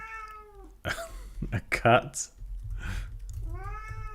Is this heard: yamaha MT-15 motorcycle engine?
no